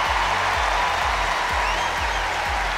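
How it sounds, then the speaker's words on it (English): Indoor arena crowd at London Olympia show jumping applauding and cheering after a clear round by rider William Whitaker, a dense continuous roar of clapping filling the hall, with thudding low booms pulsing beneath. "The crowd's going wild."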